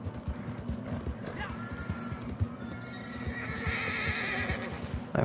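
Horse in the video game Red Dead Redemption 2 whinnies and snorts over a continuous patter of clip-clopping hooves, with a voice talking quietly underneath.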